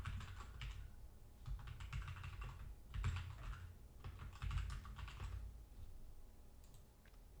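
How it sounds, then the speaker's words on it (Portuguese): Keys clatter on a computer keyboard as a prompt is typed, in quick close bursts of tapping separated by short pauses, quiet and with no voices. "E aí eu vou digitar algum comando para modificar essa imagem."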